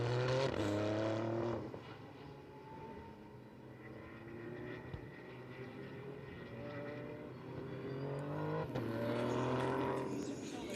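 GT race cars at Paul Ricard roar past at close range, a Porsche overtaking a BMW and a Mercedes, engine notes climbing and falling as each car goes by, loudest at the start and end, with commentary underneath.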